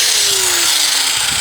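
A grinder cuts into metal on an old squarebody Chevy C10 pickup, giving a loud, harsh abrasive screech with a pitch that slowly falls as the disc bites in. No voices are heard.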